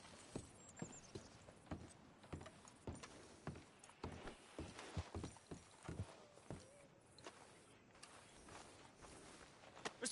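Horse hooves clip-clop in an irregular walking rhythm in Red Dead Redemption 2, a soft, close series of knocks over a quiet outdoor background.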